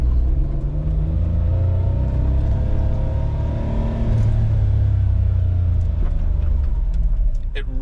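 A Suzuki Cara Autozam AZ-1 kei car with a newly installed Keisport PNP unit drives around the block, its engine giving a steady, close, low rumble with mild rises in revs, and a voice speaks briefly over it.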